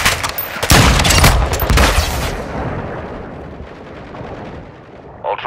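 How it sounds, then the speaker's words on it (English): Gunfire in the video game DMZ Warzone, a loud burst of rapid shots and booming impacts for about two seconds, then a fading rumbling tail and a short thud at the end. "You are taking effective fire."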